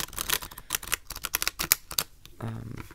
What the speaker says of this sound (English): they shuffle, just regular riffle shuffle beautifully